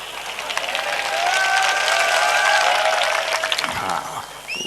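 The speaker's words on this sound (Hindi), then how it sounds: "ताली आप इस बात पे बजा दोगे" Audience applause at an outdoor kavi sammelan poetry gathering on a Dussehra ground in Mandalgarh, Rajasthan: a sustained wash of clapping that swells, holds steady for several seconds, then fades, with some crowd voices mixed in.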